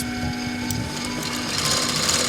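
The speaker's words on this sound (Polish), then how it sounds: "szycie na takiej maszynie ułatwia dużo sprawy, bo, ponieważ można szybko połączyć części" A furrier's sewing machine stitches pieces of fur and leather, giving a continuous fast mechanical rattle with a steady hum, loud and close, with no one talking.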